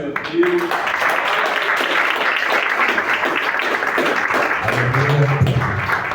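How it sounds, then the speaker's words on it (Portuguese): A church congregation stands and claps to welcome deacon Ramon as minister, dense sustained applause mixed with murmuring voices and a low hum underneath. "Peço que a igreja se coloque de pé para nós receber o ministro, o diácono Ramon, com as palmas"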